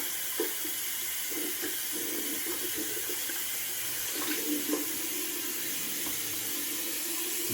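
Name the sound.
water running while rinsing soap off face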